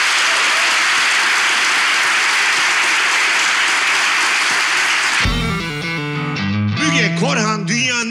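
A studio audience at a television relationship-quiz show claps loudly and steadily for about five seconds. Upbeat theme music then cuts in and plays to the end.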